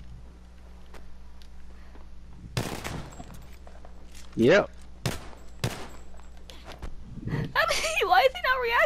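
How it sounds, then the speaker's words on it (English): Player's gunfire in a glitched video game, bursts of rapid shots cracking out amid the game's sounds, with players talking over it. "Could you guys not hear my shooting? I could hear it."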